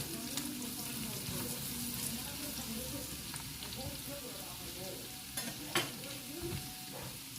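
Anchovies for sambal fry in a pan with a continuous, dense sizzle, close and even, broken by a few sharper spits and stirring scrapes near the end.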